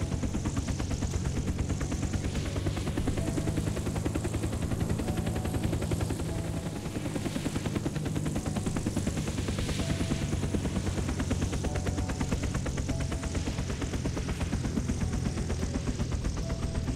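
Helicopter in the video game Unturned, landing: a continuous, loud rotor drone with steady rhythmic chopping holds throughout, with no clear voices over it.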